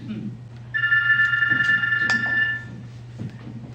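Electronic telephone ring tone sounds in one sustained burst of about two seconds, steady and clear over a low background hum, just before a recorded phone call begins.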